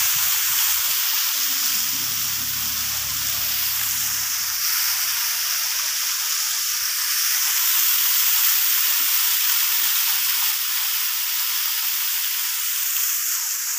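Water pours down from above into a small stream channel in the hills of Arunachal, a steady, loud, broadband rush with no voices.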